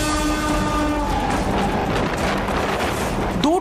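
A train passes close on the track, its horn blaring with layered tones at the start and then fading into a loud rolling rumble of wheels and carriages.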